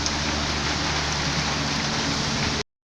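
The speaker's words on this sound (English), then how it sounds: "I was not prepared for the heavy rain" Heavy rain pours onto an abandoned shed roofed with coconut leaves, a loud, dense, continuous hiss of drops that cuts off abruptly near the end.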